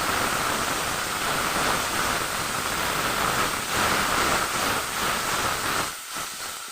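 Water poured onto frying spices with turmeric and chilli in a pan sends up a loud rushing hiss of steam and sizzle that eases off toward the end.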